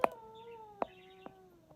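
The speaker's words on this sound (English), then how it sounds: "Here's a coyote howl." A coyote howl recording plays through an Amazon Alexa smart speaker indoors: a long, wavering, pitched cry with a few short, sharp yips at intervals, moderately faint.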